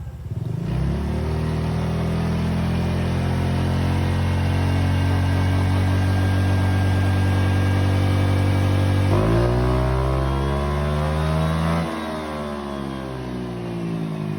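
A remapped Honda Click 125 scooter engine revs hard and loud up close, climbing to a long sustained high-rpm drone, then dropping back and settling to a lower idle.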